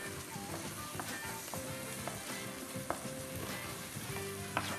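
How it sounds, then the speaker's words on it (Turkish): Steady sizzling of onions frying in a pot until pink, a continuous crackle with occasional pops, fairly quiet, no voices. "Tenceremizin içine ilave ettik. Onlar pembeleşinceye kadar kavuracağız."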